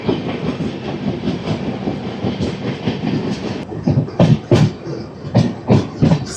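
The Repalle Express, train 17645 from Secunderabad to Repalle, rolls along the rails near Sangam Jagarlamudi station with a steady rumble, then sharp rhythmic wheel clacks strike loud and close over the joints.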